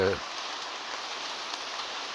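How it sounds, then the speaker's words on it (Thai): Rain falls steadily in a forest near a rattan grove, a dense, even hiss that fills the whole stretch, with a brief voice at the very start. "ฝนก็ยังตกนะ"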